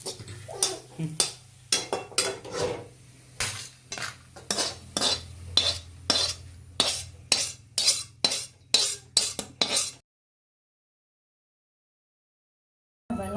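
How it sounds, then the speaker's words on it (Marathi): Roasted onion being scraped and lifted out of a pan while preparing spices for a Maharashtrian katachi amti, with a rapid series of sharp metallic utensil clinks and scrapes against the pan under a steady low hum, then near silence. "आता हा आपला कांदा भाजून झालेला आहे काढून घ्यायचा आहे"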